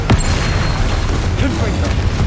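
A Confringo blasting spell explodes in Hogwarts Legacy, with a sharp crack near the start and then a loud, continuous, booming rumble under dense game noise.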